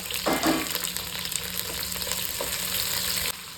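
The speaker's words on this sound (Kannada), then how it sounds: "ಅದೇ ಎಣ್ಣೆಗೆ ಈಗ ನಾನು ಕ್ಯಾಪ್ಸಿಕಮ್ ಕೂಡ ಫ್ರೈ ಮಾಡ್ತಿದ್ದೇನೆ" Capsicum fries in oil in a pan, giving a steady close sizzle with a few louder stirring scrapes near the start and no talking.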